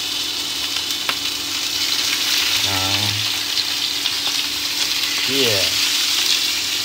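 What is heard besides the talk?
fish with skin frying in garlic oil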